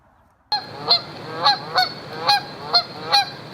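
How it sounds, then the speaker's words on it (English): Geese along the Potomac River honking close by, about seven loud, evenly spaced calls in a row after a brief quiet start. "Along the Potomac River, there are many, many geese. They always have a lot to say."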